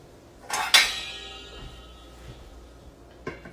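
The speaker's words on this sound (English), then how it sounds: "So I'm going to put my lid on it" A lid is set onto a frying pan holding a cooking ham and cheese quesadilla, giving a sharp metallic clank that rings and slowly decays, followed by a lighter clink near the end, with no talking.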